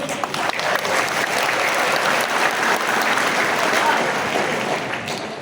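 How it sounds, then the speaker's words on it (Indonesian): Sustained applause from an audience at a consolidation meeting for a school meal program in Lampung, steady and dense throughout with a crowd texture. "Ya, tepuk tangan boleh."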